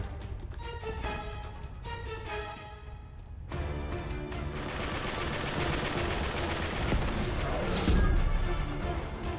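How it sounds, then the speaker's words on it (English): Gunfire from blind firing in the Uncharted 3 multiplayer video game: rapid bursts of automatic shots with crashes and impacts, growing denser and louder over a constant game background, with no talk. "This guy right here, King Cobra 97, he keeps on blind firing"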